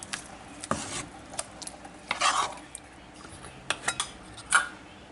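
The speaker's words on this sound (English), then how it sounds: "Give this a good stir." A spoon stirs a chunky vegetable pasta sauce seasoned with Italian herbs, oregano and thyme in a pot, giving scattered scrapes and clinks against the metal. The sound is close and moderately quiet with no talking.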